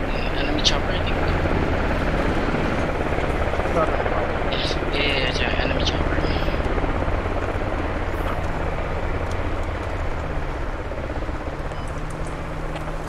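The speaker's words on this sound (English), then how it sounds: "Enemy chopper, I think." An enemy helicopter in the military shooter Squad drones steadily and fairly loud through the whole stretch, a broad rotor rumble with scattered game noises and brief voice chatter on top.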